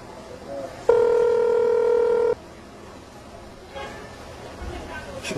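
A telephone rings with a single long electronic tone lasting about a second and a half, loud and steady, followed by quieter room noise and faint talk.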